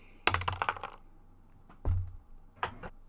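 A die clatters across a desk, bouncing off a mouse and keyboard in a quick burst of hard ticks and rattles, then skitters again in two shorter bursts of clicks against the keys, with no talking.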